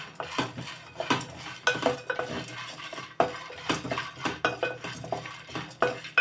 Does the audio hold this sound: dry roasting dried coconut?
yes